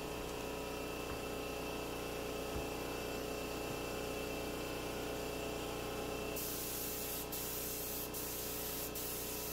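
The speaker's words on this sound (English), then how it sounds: "When using your spray gun that's attached to the air compressor" A continuous loud hiss of a 3M Accuspray paint spray gun run from an air compressor, spraying chalk paint, steady and unbroken, with a slight shift in tone near the end.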